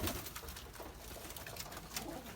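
Pigeons coo faintly in a loft among a breeding flock, soft repeated murmurs over a steady hiss of room noise, with no one speaking.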